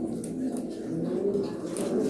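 Pigeons cooing in a loft, soft repeated throaty coos close by, layered over a low background hum with faint chirps, no talking heard.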